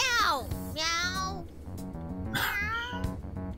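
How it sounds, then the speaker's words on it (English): Cat meowing in Persona 5 Strikers, several drawn-out, wavering meows close up, with talking in between. "That sure is a noisy cat."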